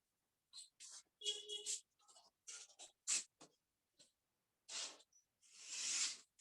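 Scratchy strokes of writing on a board during a physics lesson come in short, irregular bursts with pauses between them, close and fairly quiet, mixed with a few brief vocal sounds.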